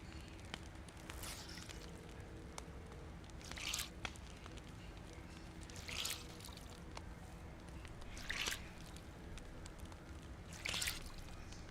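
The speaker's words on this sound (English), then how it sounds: "let's take the pants off. And we'll wring those out." In the survival game DayZ, a pair of wet pants is wrung out in four or five soft, evenly spaced squishing twists with water spattering, heard over quiet ambient background with no talk.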